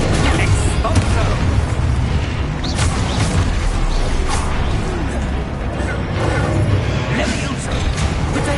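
Expulso blasting-spell explosions from Hogwarts Legacy combat, with repeated booming bursts and whooshes through a dense, loud mix while a voice keeps calling out spell names.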